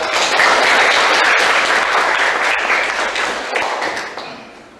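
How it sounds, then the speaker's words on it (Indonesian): A classroom audience applauding steadily and loudly for several seconds, a dense wash of clapping that tapers off toward the end. "coba kasih tepuk tangan untuk Davin dan juga Tommy"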